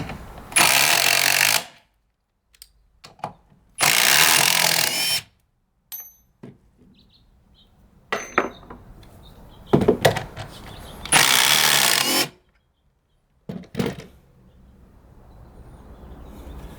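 A Metabo HPT triple hammer impact driver drives screws in several loud bursts of rapid hammering, each lasting about one to one and a half seconds, separated by quiet pauses with faint handling noises.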